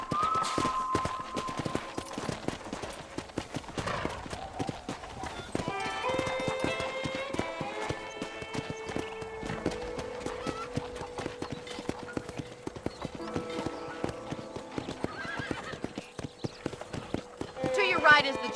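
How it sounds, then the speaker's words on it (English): Horse hoofbeats in Red Dead Redemption Remastered on PC, a steady clip-clop rhythm at a riding gait running under game dialogue and music, with an occasional whinny, moderately quiet. "let's see if you can still ride a horse"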